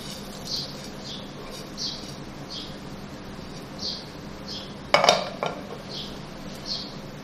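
Chicken and spices go into a cooking pot for pulao, with light metallic clinks of a spoon against the pot repeating every second or so and one louder clatter partway through, set against a quiet kitchen background.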